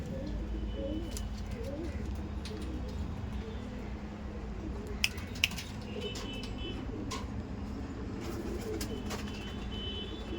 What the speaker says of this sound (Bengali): আগে একটা ম্যাড্রাস পায়রা দেখালাম